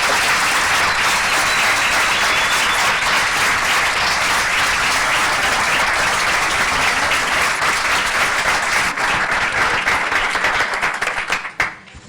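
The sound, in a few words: audience applause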